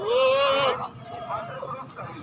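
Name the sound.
goat bleating at a livestock market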